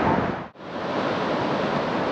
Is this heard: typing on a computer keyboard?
no